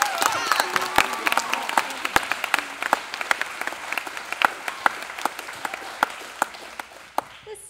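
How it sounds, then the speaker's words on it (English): Audience applause at a Chattanooga Christian School spring choir concert, a steady wash of clapping from a large crowd with sharper individual claps cutting through, sustained throughout. "feel free to clap wildly for them because they more than deserve it."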